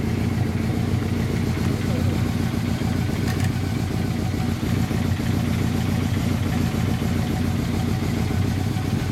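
Honda CB1300 Super Bol d'Or (SC54, 2009 model) fitted with a Striker exhaust, engine running steadily with a deep continuous rumble and clatter, close by, with people talking over it.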